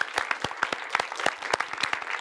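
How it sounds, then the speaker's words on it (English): A lecture audience in a psychology talk series applauds the speaker, a brief burst of scattered, fairly close hand claps without voices. "could we give a round of applause, please, and a thank you to Sue Ellen"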